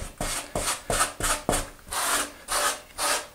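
A grout float rubbing grout into shower wall tile: rhythmic, gritty back-and-forth scraping strokes, about eight in a row, close and steady with no talk.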